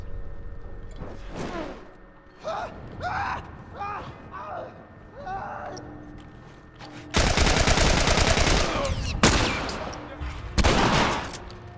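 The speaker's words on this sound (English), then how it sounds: "The assault rifle in this game is trash." Bursts of assault rifle gunfire from The Last of Us video game, with scattered single shots early on and then long, loud rapid-fire volleys, with a voice talking between them.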